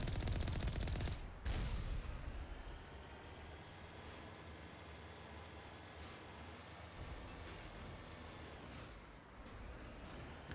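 Vehicle-mounted turret fire in the Mass Effect video game, a sustained, loud rattling stream of shots over a rumbling engine drone, continuing steadily for the whole stretch with no talking.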